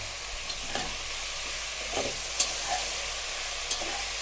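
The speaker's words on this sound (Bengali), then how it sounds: "আমি একদম সাদা আলু ভাজি করবো" White potatoes fry in a pan with a steady, moderate sizzle, broken by a few light scrapes and clicks as they are stirred.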